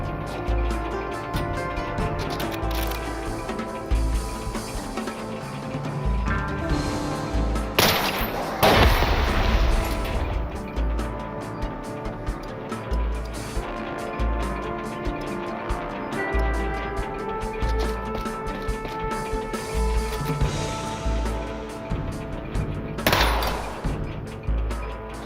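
Gunfire from the robot-shooting video game SteamWorld Heist II, with bursts of shots popping over a steady music score and a heavier blast around the middle and again near the end.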